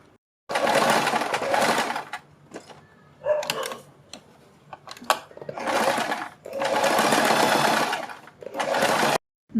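Sewing machine stitching neck strips for a kurti, running in loud continuous bursts of steady whirring separated by short pauses and small clicks, close up with no talk.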